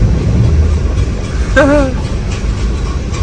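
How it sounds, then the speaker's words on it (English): Heavy rumbling rail noise from a train rolling close by, with a brief squealing whine partway through and a steady roar throughout. "It's amazing how close you can get these trains"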